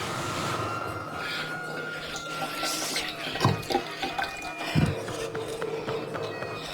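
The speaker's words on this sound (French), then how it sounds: "l'eau qui s'écoule du robinet" Water running from a kitchen tap in a ransacked room with cupboard doors open, a continuous splashing trickle with a few louder gurgles and splashes near the end, heard alone.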